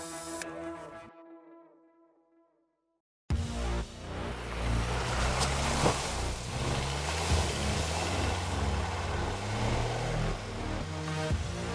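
A homemade turbocharged buggy with a 340 HP Volvo engine drives off-road, a loud rough engine roar with wind buffeting over a steady rumble, following a brief tonal passage and a short silence.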